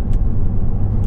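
A Honda Civic Type-R runs hard into a turn on a race track under braking, its engine a steady, dense, loud rumble with no voices over it.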